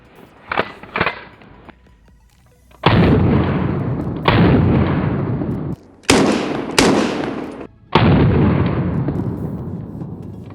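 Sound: six shots fired from a less-lethal traumatic pistol

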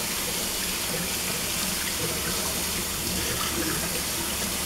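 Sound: water running in a sink for a puppy bath

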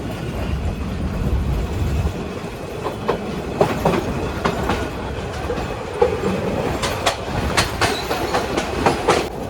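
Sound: Agnibina Express train running on tracks

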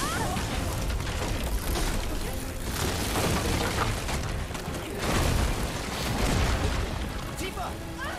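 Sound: lightning striking the bridge in Final Fantasy VII Rebirth video game

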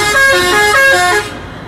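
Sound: Eka bus passing with horn

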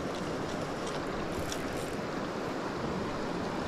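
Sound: waves on a lake shore

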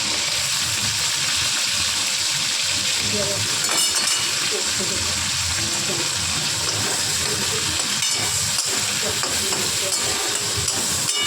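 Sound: shrimp with onion and chili frying in pan

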